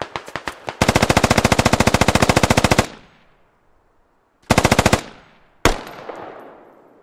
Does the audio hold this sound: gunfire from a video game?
yes